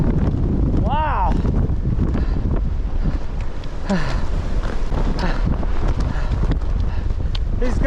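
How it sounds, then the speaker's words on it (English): Strong wind gusts on an exposed mountain summit roar continuously and loudly across the microphone, and a voice briefly exclaims over the rush. "These gusts have to be similar, 80 miles an hour."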